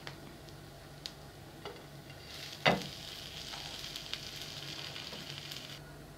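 Garlic cheese bread toasting on a tawa gives a soft, continuous sizzle, with a few faint ticks and one sharp clink partway through. No one speaks.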